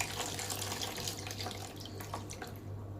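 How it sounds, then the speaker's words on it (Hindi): Hands being washed under a steadily running tap, the water splashing and trickling with soft, uneven spatters over a constant low hum, fairly quiet and without talk. "यहाँ पे मैं फिर से एक बार अपना हाथ धो लूंगी"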